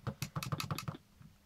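Rapid keystrokes on a computer keyboard, about a dozen clicky taps in a quick burst that then trails off into quiet room tone.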